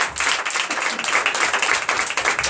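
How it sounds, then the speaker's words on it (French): Congregation clapping during a Sunday church service in Comè, Benin: a dense, steady patter of many hands at moderate volume that runs continuously for the whole stretch. "Au nom puissant de Jésus, je vous demande de l'applaudir très fort."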